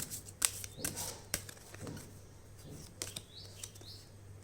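Tarot cards are shuffled and drawn in a few soft, scattered papery flicks and slides, quiet and close, with faint bird chirps in the background.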